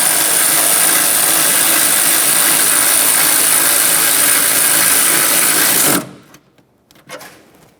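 A power tool drives a 10mm nut down on a bracket during upper intake plenum work on a 2011-2020 Toyota Sienna 3.5L V6, a loud steady whir that runs for about six seconds, then cuts off abruptly into near-silence.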